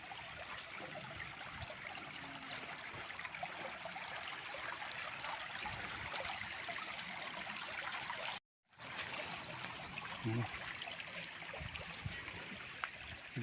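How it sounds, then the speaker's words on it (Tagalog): A small stream on a rural farm lot in Pagsanjan, Laguna trickles and flows with a faint, steady watery hiss that cuts out briefly partway through. No voices. "Ang gandang pakinggan ng agos ng tubig."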